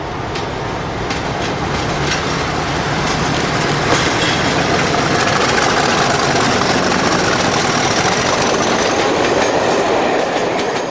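Class 50 diesel locomotives 50031 and 50049 haul a railtour train from Cardiff to Canterbury through Berkshire, a steady loud roar of engines and rolling wagons with faint rail clatter continuing throughout, no voices.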